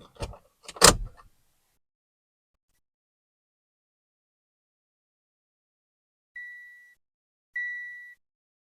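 A car ignition is switched on during remote programming: a couple of sharp clicks, a long pause, then two short electronic chimes.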